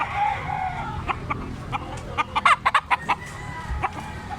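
A two-kilo Talisayon stag rooster clucks close by in a quick run of short, sharp calls, with a few scattered clucks before and after.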